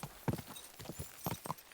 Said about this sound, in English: Go, horsey, go.